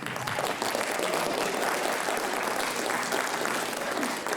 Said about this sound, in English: Can we give a round of applause again to all of our writers today?